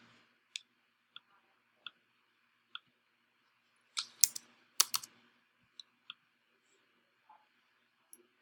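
Mouse clicks while working through a web form: sharp, isolated clicks spaced about every second, with a quick cluster of several in the middle, close and quiet against near silence.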